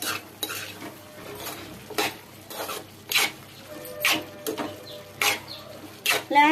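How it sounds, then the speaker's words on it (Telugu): Ridge gourd chutney being stirred in a pan, a spoon scraping and clinking against the metal in repeated close, sharp strokes about once a second, with soft background clatter and faint talk. "ఒకసారి కలబెట్టుకుందాం."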